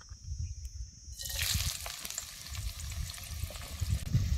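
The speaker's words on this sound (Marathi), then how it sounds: "कांदा बी तेलात चांगला भाजून घ्यायचा." Chopped onions sizzle in hot oil in an outdoor riverside cooking setting, a soft frying hiss starting after a quiet moment and continuing with faint crackles and stirring noises.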